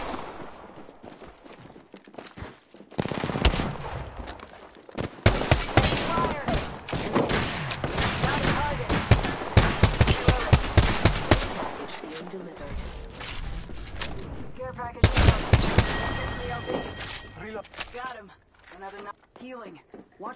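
Bursts of automatic gunfire in the battle-royale shooter Apex Legends, dense rapid volleys through most of the stretch with footsteps between, under game voice lines and occasional talk.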